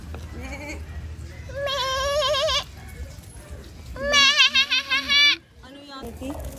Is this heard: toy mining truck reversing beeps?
no